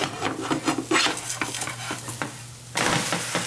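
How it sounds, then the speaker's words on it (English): Pancake in a hot pan with a spatula scraping and clattering against the pan during a flip, soft sizzle underneath, then a louder burst of frying near the end. "I actually gotta flip my pancake before we burn."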